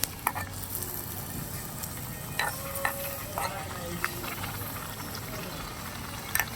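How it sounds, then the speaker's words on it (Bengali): Miniature luchi puffing in a small pan of hot oil give a soft, steady sizzle, with a few faint clicks and taps of a utensil scattered through the quiet frying. "এখন আগে আগে সবগুলোকে ভেজে নেব।"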